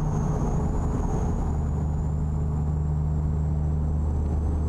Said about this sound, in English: You can always hear the traffic, right?